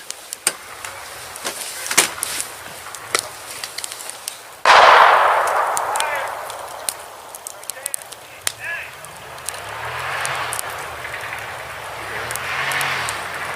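Gunfire from teenagers shooting near a campsite at night: scattered sharp cracks and one loud bang that rings out and fades, with faint voices under it.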